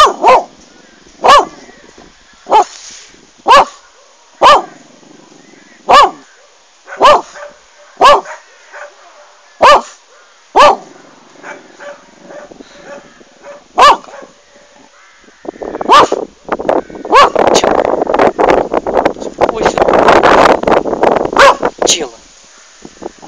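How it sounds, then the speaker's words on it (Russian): A dog barks repeatedly at a beach in sharp, evenly spaced single barks, then a denser flurry of barking and yapping builds toward the end. "Вот собачка, она гавкает, да."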